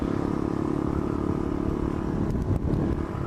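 A two-stroke motorcycle engine running rich burbles nearby, a steady crackling putter with a slight rise near the end.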